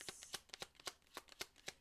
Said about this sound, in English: Okay, one more little shuffle.